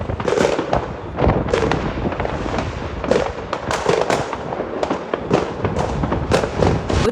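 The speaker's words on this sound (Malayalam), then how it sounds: "അപ്പോൾ പടക്കമെല്ലാം പൊട്ടി തുടങ്ങിയിട്ടുണ്ട്." Fireworks and firecrackers burst continuously at a New Year's Eve celebration, with dense overlapping cracks and booming pops, some near and loud, others further off, in a steady barrage with no pauses.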